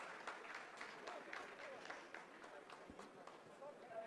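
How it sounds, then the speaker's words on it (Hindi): Scientists break into applause in a mission control room as the Chandrayaan-3 lunar lander completes a descent phase, a faint, steady patter of many hands under a speaking voice. "आप इस तालियों के गड़गड़ाहट को सुन सकते हैं"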